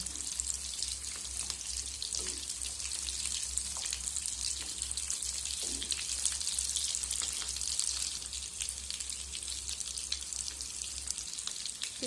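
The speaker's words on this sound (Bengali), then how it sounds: "এক পাশটা আঁচকে গেছে অন্য পাশটা ভাজার জন্য উল্টে দিচ্ছি" Snacks fry in oil over medium heat, giving a steady bright sizzle with occasional soft clicks as a fork turns the pieces over.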